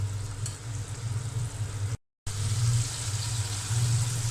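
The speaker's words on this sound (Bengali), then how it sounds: "আমি এই মশলার মধ্যে মাছ দিয়ে দেব। ভালো করে কষিয়ে নেব।" Hilsa fish pieces frying in cooked-down spice paste in a pan, giving a soft, steady sizzle with a low rumble close by, broken by a brief gap of silence partway through, no voices.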